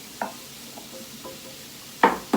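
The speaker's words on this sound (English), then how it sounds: "is gonna saute these onions for just a little bit longer" Onions for beef stroganoff sauté in a pan with a faint, low sizzle, broken by a few soft scrapes of stirring and two sharper utensil knocks near the end.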